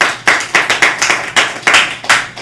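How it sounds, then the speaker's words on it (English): A group of high school students claps in a quick round of applause, scattered hand claps close and lively, no voices over them. "Can I get a round of applause,"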